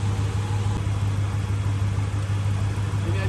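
A neglected 1981 Chevy K10 truck engine runs unevenly on an oil-gas mix, giving a steady, close, low idling rumble with a strong hum throughout.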